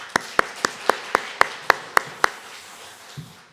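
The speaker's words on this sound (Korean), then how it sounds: "박수 한번 더 할까요?" A few people in a church congregation clap for the choir during a Sunday morning service, about nine evenly spaced, crisp claps over two seconds that then stop, leaving a quiet room.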